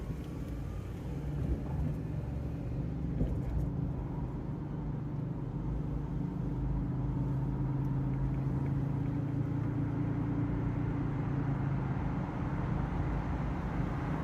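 A car drives on I-80 East in heavy merging traffic, giving a steady low road rumble and tire noise heard from inside the cabin throughout, with no one speaking.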